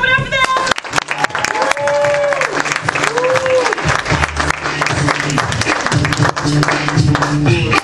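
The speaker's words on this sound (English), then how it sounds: "Clap it up for them!" A student showcase audience applauds and cheers for performers, a loud, dense wash of clapping and whoops filling the room, with music tones and voices sounding underneath throughout.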